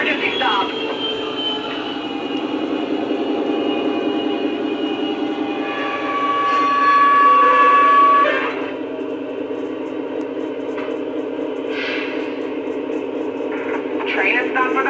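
A Panama Canal Railway F40PH locomotive train making an emergency stop rumbles steadily, with a long high squeal rising in the middle and radio chatter and voices over the rail noise.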